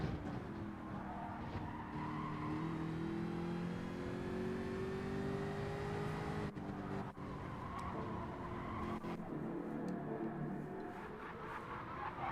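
Race cars in Gran Turismo 7 at Fuji's short circuit scream past with revving engines, rising and falling pitch through shifts, and tires squealing under braking, loud and continuous with no talk.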